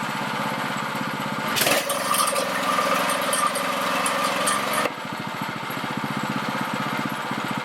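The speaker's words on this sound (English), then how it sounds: "We'll idle down if the governor would allow it." Baja mini bike small engine running with the governor holding the revs up, a steady buzzy drone that surges louder briefly before settling back to a rough, pulsing idle, heard close and alone.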